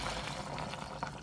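Fish ball broth bubbles at a rolling boil in a pot, a close, busy watery gurgle and popping that fills the brief moment, with no talking.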